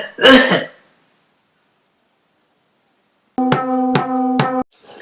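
Cold-stricken coughing: a loud, harsh burst at the start, then silence, followed by a strained, tonal throaty sequence of three pulsed hacks near the end.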